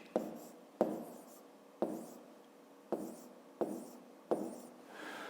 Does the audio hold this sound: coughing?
no